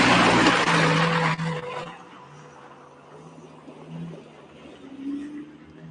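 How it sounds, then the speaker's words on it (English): Rally car climbing a steep, muddy hill stage, its engine roaring loud and close at first, then dropping away into a fainter drone as it moves off up the slope. "So we've got car 14 just coming through us"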